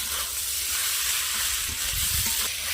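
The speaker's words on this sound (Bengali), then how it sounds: "পেঁয়াজ রসুন আদা আমি আর একটু ভালোভাবে ভেজে নেব" Onion, garlic and ginger frying in a pan, with a loud, steady sizzle throughout and a few low scraping stirs near the end.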